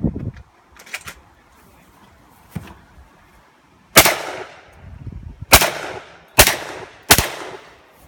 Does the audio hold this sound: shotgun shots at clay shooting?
yes